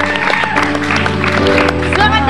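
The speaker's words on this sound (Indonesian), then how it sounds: "Langsung saja beri tepuk tangan untuk Prisya." A television studio audience applauds a guest on an Indonesian talk show, loud clapping and some cheering mixed with background music and a host's voice over it.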